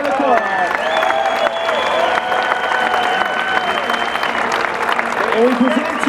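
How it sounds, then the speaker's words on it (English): Sustained audience applause at the Pickleball Hall of Fame 2019 induction ceremony as inductee Jennifer Lucore is honored, a dense wash of clapping with cheering voices mixed in, steady and loud throughout. "please give a warm round of applause for Jennifer Lucore"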